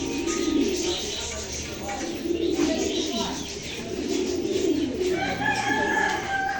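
Pigeons and other birds in a busy covered bird market, the Dewanhat market in Chattogram, make steady cooing and chattering over a dense crowd murmur. A few higher calls break through toward the end.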